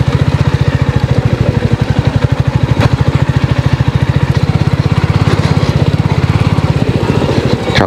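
A motorbike rides along the rough, damaged NH10 highway between Siliguri and Gangtok, its engine thrumming in a fast, steady, close pulse that stays loud and continuous throughout with no voices.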